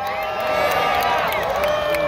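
A rodeo crowd at an outdoor arena in Lakeside, California applauds and cheers, a dense, steady roar of clapping and whoops that holds across the whole stretch.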